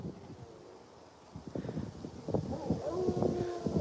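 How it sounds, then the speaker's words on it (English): Gusty wind blowing outdoors on a ranch, a low rumbling buffet against the microphone that builds after the first second, with scattered rustling and faint knocks mixed in. "gosh, it's even windy over here now too."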